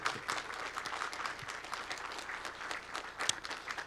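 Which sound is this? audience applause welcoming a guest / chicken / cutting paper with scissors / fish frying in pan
audience applause welcoming a guest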